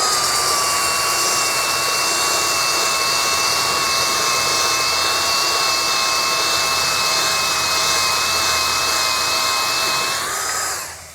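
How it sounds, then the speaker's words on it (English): Belt sander with an 80 grit belt sanding deck wood, a loud, continuous whine with a steady high tone held for about ten seconds before winding down at the end. "We're just gonna put an 80 grit belt on the belt sander and see if we can smooth this out a little bit more."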